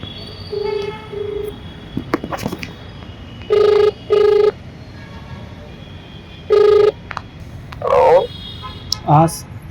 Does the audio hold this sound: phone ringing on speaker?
yes